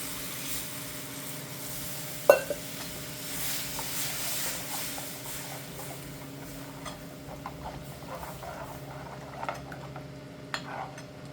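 Water is poured into a pot of homemade curd and gram flour kadhi, giving a steady soft hiss and bubbling with a few sharp clinks, heard alone without talk.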